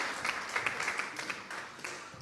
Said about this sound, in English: I would love another round of applause for those folks